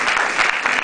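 An audience applauding at a music school concert, a brief burst of dense, even clapping from a crowd, loud and close, with no speech over it.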